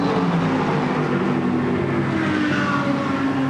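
Race cars at the 2022 Rolex 24 at Daytona roaring steadily in the pit lane, a loud, dense, continuous engine wash with no letup.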